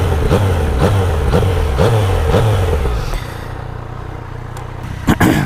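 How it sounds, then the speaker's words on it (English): Yamaha MT-09 motorcycle with an inline three-cylinder engine revving: several rising and falling throttle blips in quick succession, loud and close, then settling to a steadier idle with a brief final blip. "You can hear in the inline 3-cylinder has a little bit different tone."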